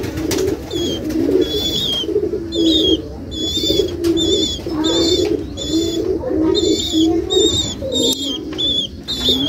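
Restless pigeon chicks in intense heat give loud, repeated coos broken by clusters of sharp, high chirps, heard close up in quick bursts.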